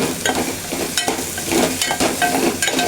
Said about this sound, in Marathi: टोमॅटो कांदा आणि लसूण याला सगळ्याला चांगलं परतून घेते